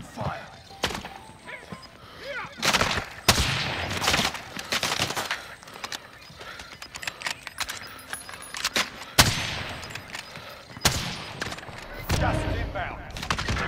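Gunfire in Call of Duty: Modern Warfare crackles in sharp bursts and single shots, some near and some farther off, over a busy game soundscape with players talking at times.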